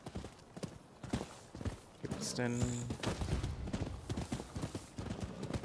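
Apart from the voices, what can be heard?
horse hooves galloping in video game Rise of the Ronin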